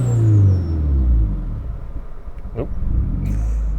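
A car engine fitted with a Tomei Expreme Ti titanium exhaust and Grimmspeed catted J-pipe, loud and close, with low rumbling revs that rise and fall unevenly and a faint click near the end.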